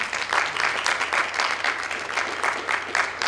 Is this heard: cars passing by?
no